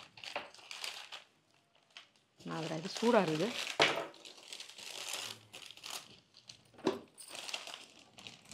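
Paper wrapping crinkles and crumples in bursts as a gift box is unwrapped nearby, with people talking over and between the rustling.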